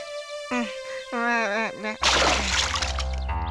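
Cartoon splash as a character steps into a puddle on the way from school, a sudden loud watery burst following animated talking voices.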